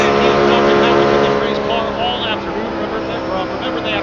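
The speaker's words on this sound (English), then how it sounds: "A host of other cars are making their way down the pit road" NASCAR race cars roll down pit road at Las Vegas, a loud, continuous engine drone with shifting tones as several cars pass, under steady commentary talk.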